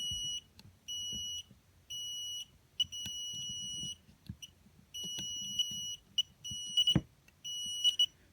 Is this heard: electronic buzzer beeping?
yes